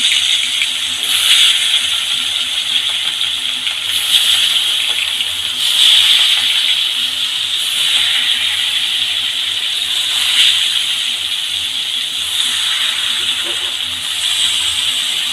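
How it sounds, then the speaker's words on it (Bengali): Fish frying in hot mustard oil, a steady loud sizzling hiss running throughout with periodic surges as pieces are added one by one; someone talks over it. "সর্ষের তেল দিয়ে দিলাম তেল গরমও হয়ে গেছে এবার দিয়ে দিচ্ছি মাছগুলো একে একে"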